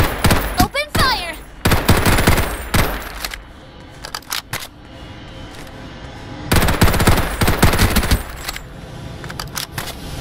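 Rapid machine gun fire in the video game Farlight 84, coming as several loud, dense bursts with quieter gaps between them and some lighter game effects.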